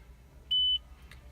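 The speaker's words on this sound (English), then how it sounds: "And after you hear that beep, it will save." A single short electronic beep from a 2017 Toyota Corolla iM radio saving a preset, clear and steady, sounds once in a quiet setting with faint background hum.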